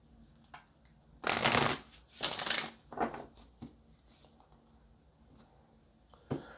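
Tarot cards being shuffled in several quick bursts of riffling and flicking, loud and close, separated by quieter handling taps and small clicks, with a final short shuffle at the end.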